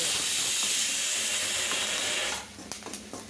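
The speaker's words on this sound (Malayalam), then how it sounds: "ഇനി നമുക്കൊന്ന് ഇളക്കി" Spice powders stirred into hot oil in a pan for a Kerala-style legume dish give a loud, steady hiss that drops off after a couple of seconds. Softer clicks and scrapes follow.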